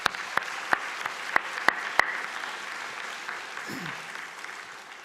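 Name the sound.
graduates applauding themselves at convocation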